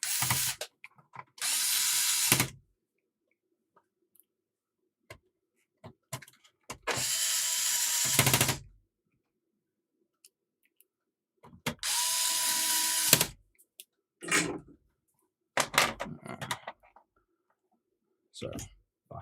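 A screwdriver or small power driver works screws into the front case of a Sega SC-3000 home computer in three loud, sustained whirring bursts separated by silences, followed by a few short clicks and rattles.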